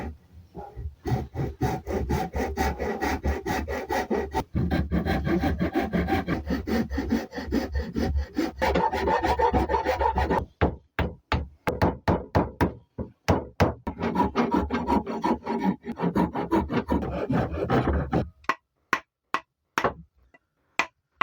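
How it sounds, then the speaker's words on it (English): Steady back-and-forth rasping as a rasp shapes a wooden handle, a dense run of strokes giving way to separate, sharper scrapes and knocks near the end, close and loud with no talk. "I'm going to start shaping it with a rasp."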